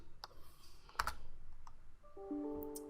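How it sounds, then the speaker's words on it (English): Keys of a computer keyboard tapped in short bursts, a few quick clicks with sparse gaps, close and quiet, typing a web address. "you can see I just typed in facebook.com"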